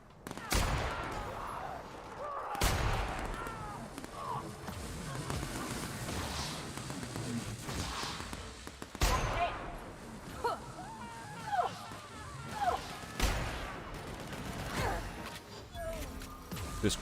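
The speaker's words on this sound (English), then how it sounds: "What if I just start taking shots from back here?" Gunfire from a weapon in The Outer Worlds cracks out as several sharp, loud shots spaced seconds apart, with echoing tails, impact crashes and a talking voice between the shots.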